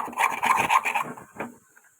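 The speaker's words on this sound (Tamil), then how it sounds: "இதை நம்ம நல்லா கிண்டிக்கிட்டே இருக்கணும்." A thick halwa-style sweet is stirred in a pan, giving a run of scraping, rasping strokes that are loud at first and then fade into a short, quieter scrape before near silence.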